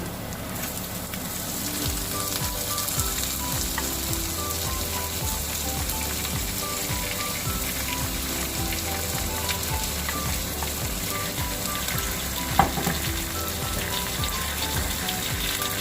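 Onions frying in a pan for chicken kofta bhuna curry, a steady, dense sizzle that runs loud and unbroken throughout, with one sharp clink partway through.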